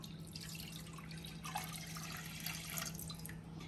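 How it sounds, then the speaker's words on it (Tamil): Water being poured into a cooking pot, a faint, steady trickle and splash with soft dripping, continuous and fairly quiet throughout. "இதை நான் அந்த பாத்திரத்துல ஊத்திக்கிறேன்."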